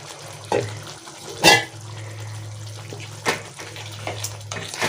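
Water poured into a pan of potato curry with yogurt for gravy, a faint splashing pour over a steady low stove hum, with a few sharp clinks of utensils against the pan.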